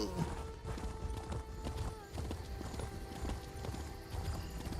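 Horse hooves galloping steadily in Elder Scrolls Online, a continuous rapid clip-clop that runs throughout at close range, with a brief whinny near the start and game sounds layered underneath.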